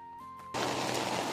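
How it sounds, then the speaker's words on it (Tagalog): Heavy typhoon rain bursts in after a brief quieter moment and then holds as a loud, dense, steady roar of downpour nearby, with no voices. "Lakas ng ulan!"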